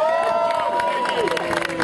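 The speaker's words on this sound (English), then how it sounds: "So the police officers that are here, can we give them a round of applause, please?" A rally crowd at Grand Army Plaza claps and cheers for police officers, a brief continuous burst of applause and shouting mixed with voices.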